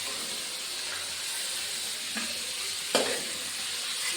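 Onions fry in hot oil with a steady, close sizzle and crackle throughout, broken by a couple of brief clinks and stirring scrapes.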